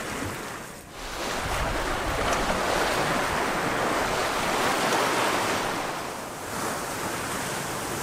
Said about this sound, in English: So the wind's picked up. It's gotten a little more sporty.